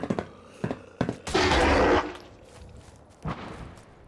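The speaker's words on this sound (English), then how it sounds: "Yeah, gunshots nearby." Several sharp gunshots in the video game Fallout 4 crack in quick succession, then a burst of rapid fire about a second long, followed by a single later shot, all fairly close.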